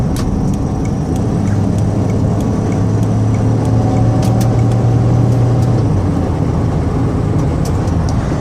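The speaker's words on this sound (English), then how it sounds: "Got the van up to 65 miles an hour." A 2001 Dodge Grand Caravan SE wheelchair-accessible van with 139K miles cruising at 65 mph, giving a loud, steady drone of engine and road noise throughout, with no voices.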